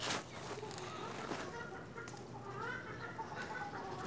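Chickens cluck and squawk repeatedly in a noisy, close chorus, with a few sharper calls standing out over steady outdoor background noise.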